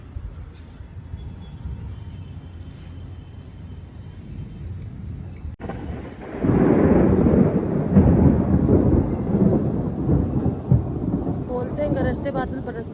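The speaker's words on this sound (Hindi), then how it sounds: "बोलते हैं गरजते बादल बरसते नहीं है, पर जिस हिसाब से ये गरज रहे हैं ये बरसेंगे" Thunder from a gathering storm rolls in as a deep, sustained rumble that swells loudly after a quieter stretch of wind and ambient noise, then lingers and slowly fades.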